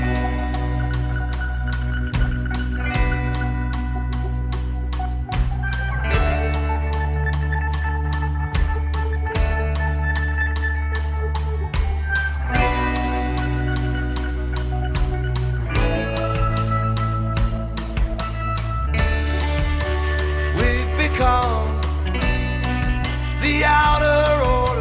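A rock song plays with layered band instrumentation, sustained chords and a regular percussive pulse, loud and continuous across the whole stretch.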